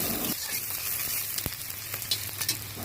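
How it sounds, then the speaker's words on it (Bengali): Onions and green chilies fry in oil in a wok with a close, steady sizzle, broken by a few sharp crackles and stirring clicks. "কড়াইতে তেল দিয়ে পেঁয়াজ ও কাঁচামরিচ ভেজে নেব।"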